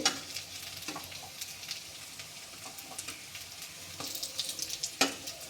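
Quiet, steady sizzle of banana-flower fritters frying in oil, with occasional pops and a few soft utensil scrapes.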